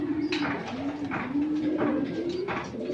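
Racing pigeons arriving at Batangas port during a fun race, cooing in a repeated low rolling rhythm, close and clear, with faint background noise and no talk.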